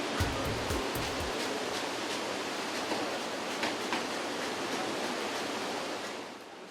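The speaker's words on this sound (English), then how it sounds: "without warning it starts to pour" Heavy rain pours down in a cloudburst in the western Himalayas, a dense, steady roar of broadband water noise with a swelling river rushing beneath, loud and continuous until it eases slightly at the very end.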